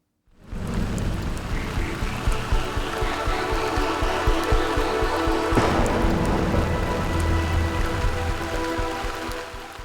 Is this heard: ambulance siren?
no